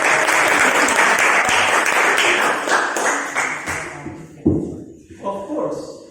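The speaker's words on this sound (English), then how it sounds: "Give applause for our sister." A small audience at a Dominican aspirancy speech practice claps loudly and briskly, then the applause tapers into a few scattered claps and thumps as a voice begins speaking.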